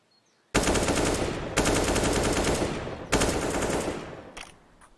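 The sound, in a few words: gunfire in Counter-Strike video game match on Inferno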